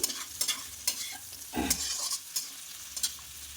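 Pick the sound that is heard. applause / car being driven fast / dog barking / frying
frying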